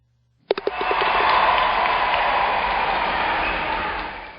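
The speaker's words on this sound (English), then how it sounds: "the crowd noise is a little bit too loud" A crowd cheering sound effect plays in a Flash movie test, starting after a few sharp clicks and then holding as a loud, steady roar of cheers and applause.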